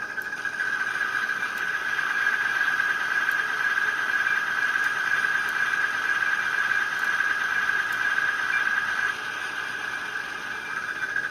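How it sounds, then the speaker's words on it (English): A steady whirring squeal with a rattling, chain-like mechanical texture from a Roco 46800 model crane's pulley runs continuously, close by, before easing slightly near the end; no voices. "It's got like a chain sound if the pulley system is going around."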